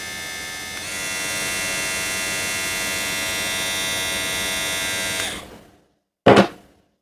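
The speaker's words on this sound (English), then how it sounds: "It's a slow clipper." A Kemei KM 2357 hair clipper with a ceramic cutter blade hums steadily and close for several seconds, then switches off, followed by a short clunk as it is set down.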